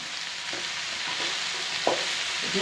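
Okra sizzles steadily in a hot oiled pan with half a spoon of turmeric, the hiss broken by a few soft scrapes and clicks of a spoon stirring it through. No one speaks.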